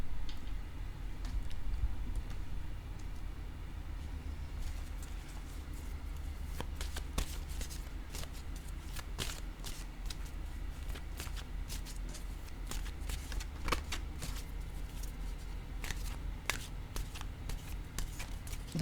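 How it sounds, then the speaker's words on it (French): A deck of tarot cards is shuffled and a card is drawn. Crisp, irregular riffling snaps and flicks sound over a soft low background hum, fairly close and quiet. "Je vais piger maintenant une carte"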